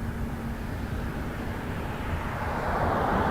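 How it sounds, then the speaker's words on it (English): A Boeing 787 Dreamliner departs from runway 05 at Toronto Pearson Airport, its jet engines giving a steady, broad roar that swells slightly toward the end, heard from a distance without talk. "We're going to watch a Dreamliner depart."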